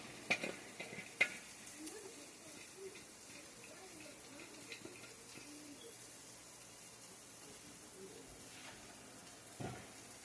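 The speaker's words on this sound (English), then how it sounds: "Let me stir our peppers up again." Peppers are stirred in an iron skillet over a low sizzle, with a couple of sharp metallic clinks near the start and another near the end, otherwise a quiet, steady frying hiss.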